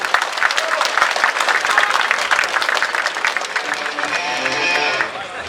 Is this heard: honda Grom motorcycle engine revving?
no